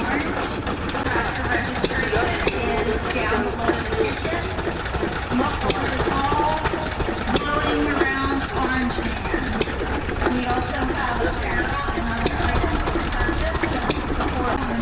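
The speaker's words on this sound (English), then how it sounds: "we get to see a 1910 Ericsson hot air engine that's extremely rare at this show" A rare 1910 Ericsson hot air engine runs steadily at an engine show, its continuous mechanical chugging sitting under nearby crowd chatter and voices throughout.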